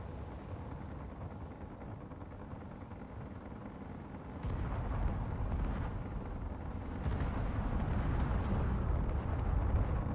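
A missile explosion in the space game Space Engineers, a deep rumbling blast that swells halfway through and grows louder toward the end, with no talk over it.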